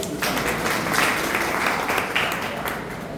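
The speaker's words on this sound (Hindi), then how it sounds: "इसके लिए एक बार जोरदार ताली बजा सकते हैं" An audience at a talk in Haridwar breaks into a dense burst of clapping that holds steady for a few seconds.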